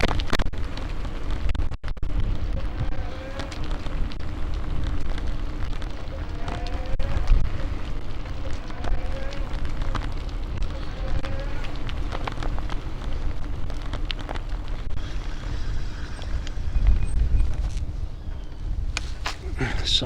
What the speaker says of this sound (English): The wind's really built up this morning.